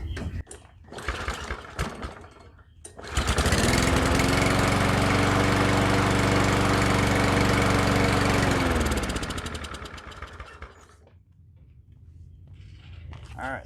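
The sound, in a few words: lawn mower engine starting and running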